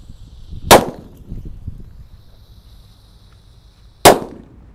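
Two Petir firecrackers go off one after another, each a sharp, loud crack standing alone with a few seconds of quiet between them.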